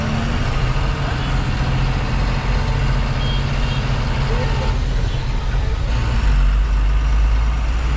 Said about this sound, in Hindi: देखिए, एक ट्रक आ रहा है